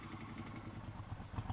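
A Triumph Scrambler 1200 motorcycle engine runs at a low, steady rumble on a quiet Sunday morning, close to the microphone with a little mechanical clatter and no talk.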